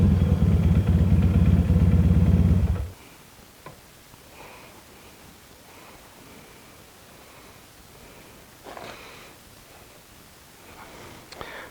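A 1977 Yamaha XS650D motorcycle engine drones loud and steady for under three seconds, then cuts out, leaving quiet ambience with a few faint clicks and light clatter.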